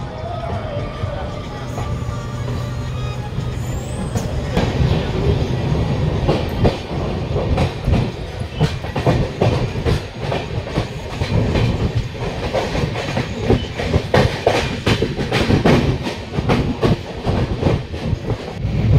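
The Patna Howrah Jan Shatabdi Express runs on the rails near Mokama station with a steady clickety-clack of wheels over joints. The rhythmic rattle grows busier and louder as it goes, and voices sound underneath.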